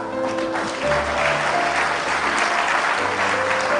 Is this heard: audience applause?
yes